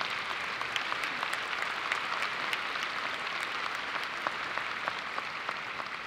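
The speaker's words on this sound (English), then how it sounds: "Yes, please applaud that." A law school commencement audience applauds steadily, a dense wash of many hands clapping that holds evenly throughout at moderate loudness, with no talk over it.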